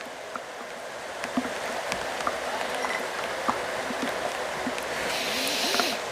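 Light rain falls steadily at a baseball game, a soft even hiss with scattered faint drops and distant crowd murmur, quiet and continuous throughout.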